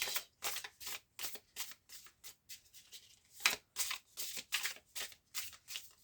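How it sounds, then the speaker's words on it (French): Tarot cards are shuffled and cut in quick, regular riffling flicks, about a dozen soft papery bursts in a steady rhythm, close but quiet with no talking. "on va faire une coupe et un tirage en neuf"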